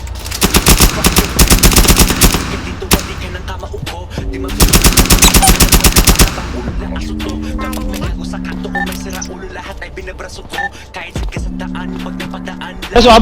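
Loud bursts of rapid machine-gun fire rattle out in a roleplay video game, two long sustained volleys followed by scattered single shots and short bursts, with voices talking over the action.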